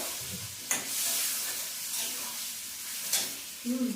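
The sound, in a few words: spice paste frying in pan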